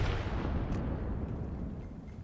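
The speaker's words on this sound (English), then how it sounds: "Wow, the nades are so close, man. They're so close." Grenades exploding close by in the video game Vail, a heavy, rumbling low blast that fills the whole moment and slowly decays, loud and near with no talking over it.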